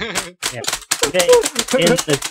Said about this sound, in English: mashing my keyboard, and I don't know when I'm going to stop